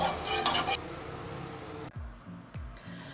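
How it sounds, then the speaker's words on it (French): Three ingredients being stirred together in a saucepan for a chocolate cake syrup, brought to a boil: a busy scraping, sizzling stir at first, then quieter with a few soft knocks of the utensil against the pan. "Il faut mélanger les 3 ingrédients jusqu'à ébullition."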